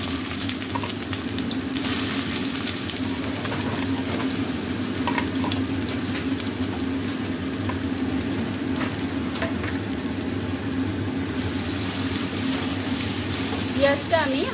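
Onions fry in hot mustard oil, a steady, busy sizzle that holds evenly throughout with faint stirring and a small clink near the end, under a voice talking.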